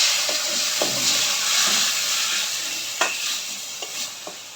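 Sardines frying with garlic in smoking hot oil give a loud, steady hiss, with a few sharp crackles and the clatter of stirring.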